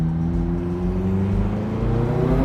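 McLaren 570S Spider engine under light acceleration on São Paulo streets, a steady close rumbling drone whose pitch climbs slowly through the whole stretch, with no voices.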